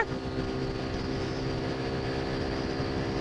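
Suzuki Gixxer Monotone motorcycle engine running under load, accelerating through the gears with a steady, dense drone of harmonic tones. Close and continuous, with no talk.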